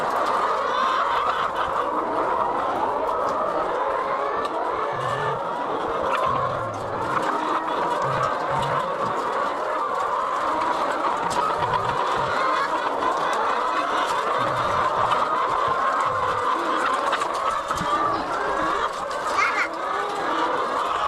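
A flock of chickens clucking at their feeders, a dense continuous chorus of overlapping clucks and murmurs close by, with no talk.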